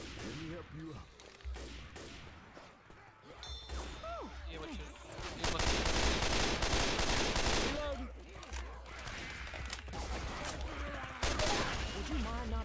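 Bursts of gunfire in a video game, with rapid automatic volleys and scattered shots rising into a sustained loud stretch midway, mixed with game voices and effects.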